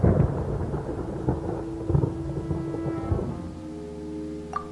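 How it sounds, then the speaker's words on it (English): Rolling thunder in Genshin Impact, a broad low rumble that swells and fades over a few seconds beneath a steady game music drone, with a small bright chime near the end. "Paimon hears thunder!"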